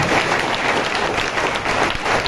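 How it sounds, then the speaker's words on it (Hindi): A church congregation claps vigorously in thanks to the Lord, a dense, loud and continuous burst of applause with no speech over it. "जोरदार ताली बजा के प्रभु का धन्यवाद"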